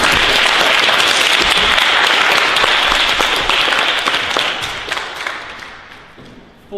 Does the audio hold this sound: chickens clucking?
no